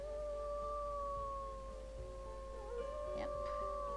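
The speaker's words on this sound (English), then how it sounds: "You can howl if you want." A dog howls in long, sustained, wavering tones, steady and fairly near, with a low hum and faint talk underneath.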